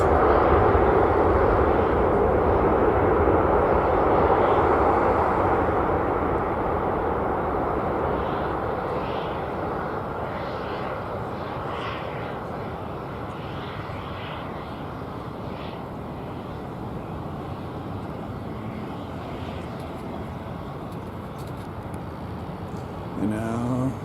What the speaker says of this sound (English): Thrusters as they reverse.